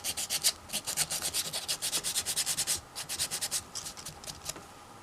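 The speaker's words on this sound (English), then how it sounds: "You can sand some of the hair off if you're not careful, because it's not deeply imprinted into the doll." Rhythmic, brisk sanding strokes rub across a doll's head and molded hair, steady back-and-forth scratching up close with brief pauses and no talk.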